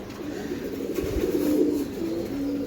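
Sapchila racing pigeons at a farm give a short run of low, rolling coos, close and steady over a quiet background.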